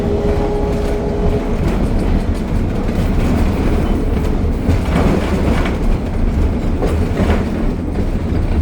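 Train cars rolling along rails behind a steam locomotive, heard from on board as a loud constant rumble with rhythmic clickety-clack beats of the wheels over rail joints.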